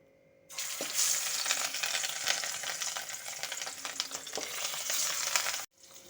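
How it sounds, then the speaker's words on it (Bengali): Pieces of katla fish frying in hot oil, a steady loud sizzle with crackling and a couple of utensil knocks, continuing for several seconds before cutting off. "তেল গরম হয়ে গেছে, ওই তেলের মধ্যে এখন আমি মাছগুলো ভেজে নেব।"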